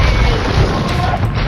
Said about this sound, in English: and using this mangonel.